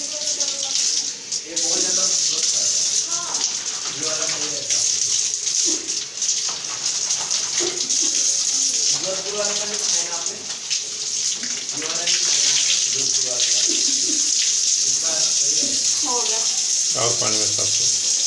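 Water runs and splashes steadily nearby while a small child swishes clothes through it, with people talking over the flow.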